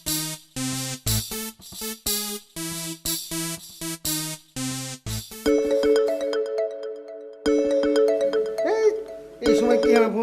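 A mobile phone ringtone plays as a repeating melodic chime pattern, loud and close, then gives way to a sustained, brighter tone sequence with a few soft voices around it.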